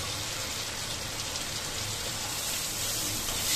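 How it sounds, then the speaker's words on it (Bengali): Rain falling outside during a monsoon shower, heard as a steady, even hiss of downpour with no distinct drops or breaks, moderately loud and unbroken. "বাইরে বৃষ্টি হইতেছে, রান্নার লগে একটু দেখাইলাম বৃষ্টিটা।"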